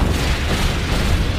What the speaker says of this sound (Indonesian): sebuah roket meluncur menimbulkan ledakan yang dahsyat